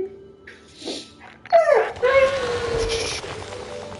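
A pet dog lets out a whining, drawn-out whimper that rises and trails off, close by and alone after a brief murmur, with faint breathing around it.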